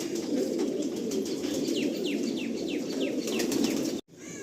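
Stadium Kalanka pigeons at a loft in Behala, Kabardanga, cooing close and steadily with chirps and a flurry of wing flaps, ending in a brief abrupt cutoff.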